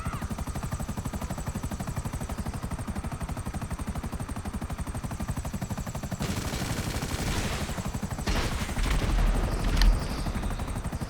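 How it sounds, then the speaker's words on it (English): An attack helicopter in a video game drones with a steady rotor thump, and partway through rapid bursts of gunfire crackle over it. "Call in like one of your attack helicopters"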